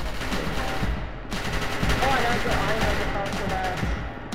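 Rapid automatic gunfire rattles loudly in the game SCP: Secret Laboratory as facility guards fire on a target, sustained bursts with a short break, close and harsh, with voices shouting over the shooting.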